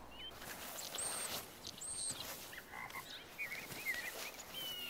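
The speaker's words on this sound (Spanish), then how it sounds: "Uy, se escuchan ranas." Frogs croaking in a continuous faint chorus outdoors at night, steady and distant, with scattered higher chirps and whistles rising above it.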